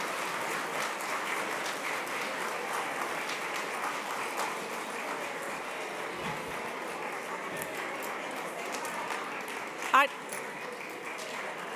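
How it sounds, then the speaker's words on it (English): An audience claps steadily through a large event hall, a moderate, even wash of applause with a brief sharp ping near the end and faint voices underneath. "Nice round of applause."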